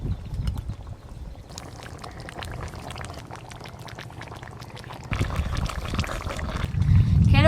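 Cooked shol fish curry with taro being poured from a cooking pot, a soft wet slosh and dribble with scraping clatter, close and moderate, growing louder toward the end.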